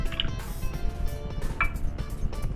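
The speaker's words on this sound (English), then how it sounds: "So I'm going to put in a can of diced tomatoes." Diced tomatoes tipped from a can into a beef stew pot, with a few close metallic clinks of can against pot and soft wet plops over a low kitchen background.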